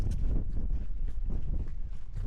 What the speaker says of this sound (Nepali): एकदमै हावा लागेको अवस्था